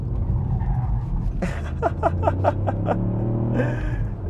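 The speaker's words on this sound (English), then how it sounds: "a car that's just making a bit too much noise" A 2021 Ford Puma ST engine rumbles steadily nearby, with a series of sharp pops and crackles from the exhaust midway through and near the end.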